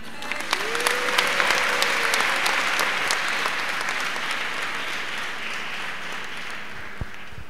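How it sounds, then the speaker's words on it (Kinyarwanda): An audience at a church ceremony applauds as a priest receives a gift, a loud, dense burst of clapping that holds steady for several seconds and then thins out, with a brief voice near the start. "Mumuhe amashyi."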